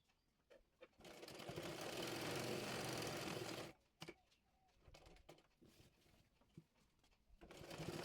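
A sewing machine stitches salwar fabric from hem to hip in one quiet, steady run of a few seconds, followed by scattered soft clicks and handling noises and a short restart at the end.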